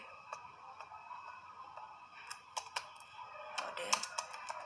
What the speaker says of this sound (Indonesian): Untuk menjalankannya kita ketik node